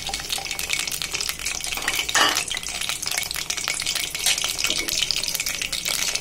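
Onion, garlic and green chilies frying in oil in a wok (kadai) for a greens dish, with a steady close sizzle and occasional stirring scrapes, no talk.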